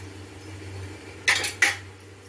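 A lid goes onto a cooking pot of chickpea sundal with two quick metallic clanks about a third of a second apart, close and clear over a quiet background hum.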